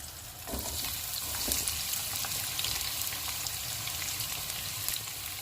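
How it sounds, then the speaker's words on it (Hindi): Onions sizzling steadily in hot oil for a fish curry, a dense crackling fry with occasional stirring clicks, close and continuous with no talk. "ऑयल गर्म हो गया, इसमें प्याज डाल देंगे।"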